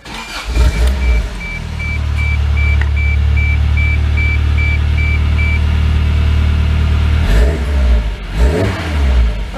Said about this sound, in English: All right, cold start.